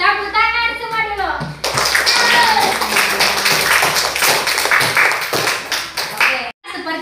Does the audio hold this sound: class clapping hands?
yes